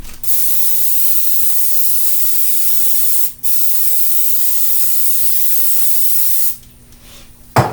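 Two long, steady hissing sprays from an aerosol can of cooking spray over a sink, each lasting a few seconds, with a brief pause between, ending with a short clatter.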